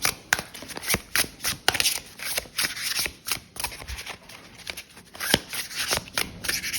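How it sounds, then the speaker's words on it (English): A deck of tarot cards being shuffled by hand, close and quiet, in a rapid series of crisp riffling bursts and soft slaps with short pauses, no talking. "I like to hover and shuffle too."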